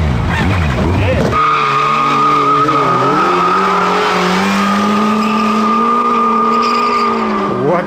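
A Suzuki Hayabusa and a Kawasaki ZZ-R1200 motorcycle run hard. After a short rough burst, a loud, close engine drone holds at high revs, its pitch wavering slightly and then settling into a sustained scream.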